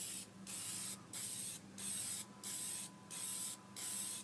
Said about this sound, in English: this is a dye that I'm going to apply first, and we're going to use light misting coats